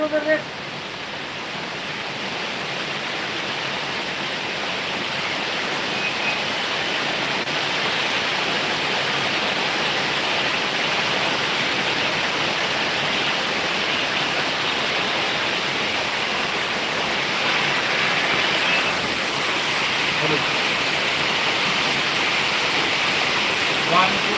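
Steady rushing of falling water, continuous and even for the whole stretch, a broad hiss like a spray or small fall close by, with faint voices now and then.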